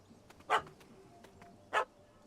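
A small dog in a fantasy role-playing video game gives two short, sharp barks spaced about a second apart, fairly quiet, over faint background ambience with no talk.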